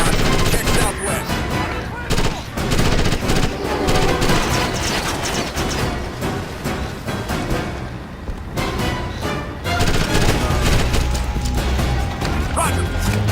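Gunfire in Ghost Recon Advanced Warfighter, with dense bursts of automatic rifle fire and sharp single shots cracking in rapid succession, loud and close, broken by brief lulls as voices call out over the shooting.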